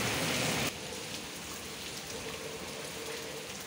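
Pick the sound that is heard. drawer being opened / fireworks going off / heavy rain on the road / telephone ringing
heavy rain on the road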